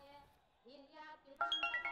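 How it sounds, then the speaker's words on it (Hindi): A bright electronic phone ringtone starts partway through, a quick repeating melodic chirp following a few moments of voices. "फोन किसका है?"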